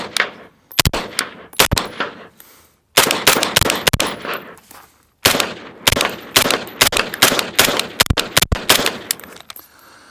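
Rapid suppressed rifle fire through a Silencer Co Velos K short can, loud and close, comes in several quick strings of sharp cracks separated by brief pauses.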